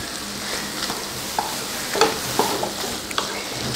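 Drumstick masala made with curry leaves and coriander is stirred and sautéed in a pan over low heat, giving a steady soft sizzle broken by scattered spoon scrapes and clinks.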